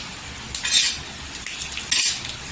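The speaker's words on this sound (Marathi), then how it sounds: "तेलावर आहे ना दोन मिनटं अशी परतून यायची" Green chillies and garlic sautéing in hot oil while being stirred for a peanut green chutney, with a steady close sizzle and two louder bursts of scraping and stirring.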